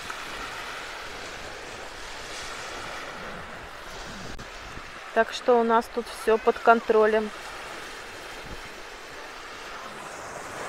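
Sea waves wash steadily onto a beach in Spain, a soft continuous surf with wind noise throughout, while someone talks briefly over it in the middle.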